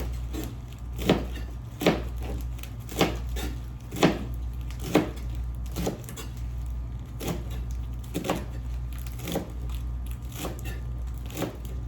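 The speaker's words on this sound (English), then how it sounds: "let me chop my collard greens right now" Collard greens chopped with a knife on a board, about a dozen crisp, evenly paced cuts ringing out close and clear over a low steady kitchen hum, no voices.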